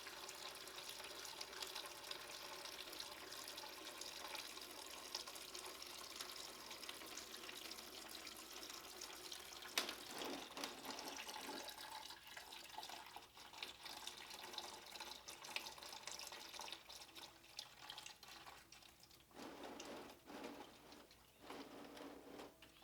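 Coolant draining from a 2008 Kawasaki ZX6R motorcycle during a coolant flush, a steady trickling liquid stream up close, continuous with faint irregular splashes and no talk.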